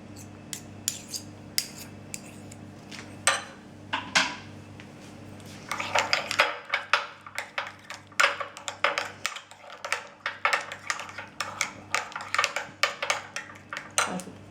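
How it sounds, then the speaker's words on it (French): A utensil stirring a savoury verrine mixture with cream in a dish, sharp irregular clinks and scrapes against the container, close and crisp, repeated in quick uneven bursts over a low background hum. "On va continuer à mélanger."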